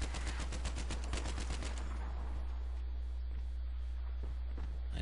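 Rapid burst of a Jeep-mounted machine gun in the Battlefield 3 game, loud and dense for about two seconds, then sparse distant shots and rattling over a steady low engine hum.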